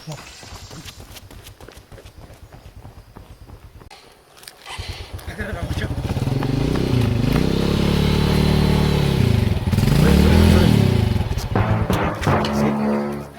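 A motorcycle taxi engine idles, then revs up and roars loudly and steadily nearby, with a voice talking over it.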